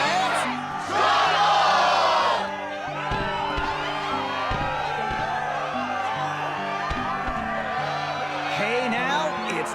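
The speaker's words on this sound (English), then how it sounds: "the crowd is fired up" Crowd cheering and yelling in the Kingdom Hearts 2 coliseum, a loud roaring swell at first that settles into steady background crowd noise under game music.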